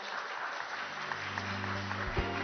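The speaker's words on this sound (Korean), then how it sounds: "큰 박수 부탁드립니다" Audience applause fills a startup pitch event and holds steady and fairly close throughout, with some faint tonal sound joining near the end.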